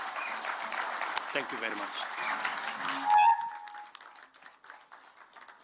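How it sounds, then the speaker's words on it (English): An audience claps for the President at the opening of digital and AI skilling centres at Konza Technopolis in Machakos. The applause runs for about three seconds and fades as someone speaks briefly. "Another round of applause for His Excellency"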